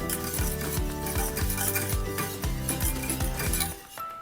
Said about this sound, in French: Et on va remuer tout doucement Avec un fouet.